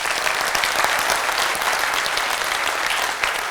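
An audience bursts into dense, sustained applause, many hands clapping evenly and loudly without pause.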